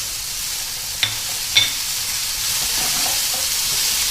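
Butter goes into a hot pan of mushrooms and garlic: two sharp clinks, then a steady close sizzle and crackle that swells and holds, with no voices.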